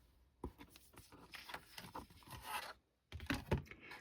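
Cardstock cut to 8.5 by 5.5 inches being scored along fold lines for a fun fold card: close, soft rubbing and scraping strokes in short bursts, separated by a brief pause.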